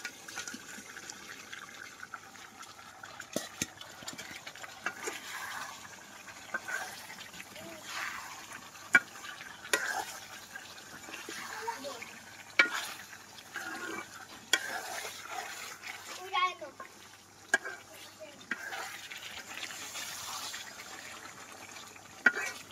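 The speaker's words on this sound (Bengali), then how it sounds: "ভাজা চিকেন গুলো দিয়ে দিচ্ছি, মশলা কষিয়ে নিছি।" Fried chicken pieces stirred into masala sautéing in a pan in a Bangladeshi village kitchen: a low continuous sizzle with soft irregular stirring scrapes and clinks, a voice talking over it now and then.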